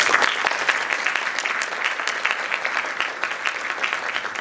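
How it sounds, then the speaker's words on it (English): Conference audience at an engineering regional opening ceremony clapping steadily, a dense round of applause from a sizable crowd sustained throughout. "Big round of applause to you."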